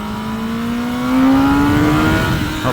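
A 2024 Kawasaki Ninja ZX10R sport motorcycle accelerates on a mountain road, its engine note rising smoothly and steadily in pitch and growing louder, close and continuous without a break.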